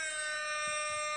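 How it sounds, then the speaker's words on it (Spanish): A meme soundboard horn effect blares as one steady, loud, sustained tonal note lasting just over a second, with no other sound around it. "Es una bocina."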